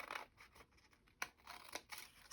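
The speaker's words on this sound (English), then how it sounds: "I just folded that back and took my scissors" Scissors cutting across folded paper while making an envelope folio, several crisp close snips and scrapes in quick succession, quiet and without talk.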